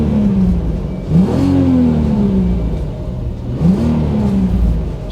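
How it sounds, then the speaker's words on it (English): A warm Volkswagen Golf R32 engine idles and then revs twice, each blip climbing sharply and falling back to a low burble, close and loud with no talk. "let's give it another good rev now we're warm."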